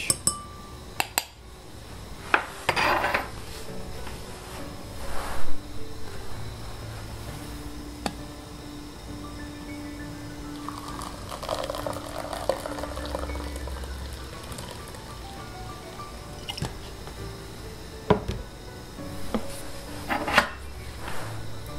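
A spoon stirs instant grain coffee in a mug, giving scattered light clinks against the ceramic at close range over a faint steady hum.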